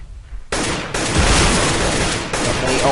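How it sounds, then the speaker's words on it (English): AK-47 gunfire in a CS:GO match: loud, dense bursts of rapid shots that start abruptly after a quiet moment and roar on almost without a break, with a brief dip near the end. "Lovely AK-47 headshot."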